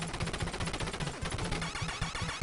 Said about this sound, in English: Get these machine gun guys right here.